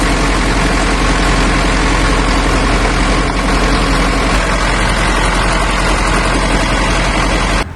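A Sprinter van's faulty second-hand engine idles loudly and roughly, a dense, shaking low rumble that holds steady for several seconds before cutting off abruptly at the end.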